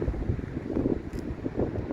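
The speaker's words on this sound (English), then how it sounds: "It's sure windy out here." Wind buffets the microphone in low, rumbling gusts, steady and loud, with no other clear sounds.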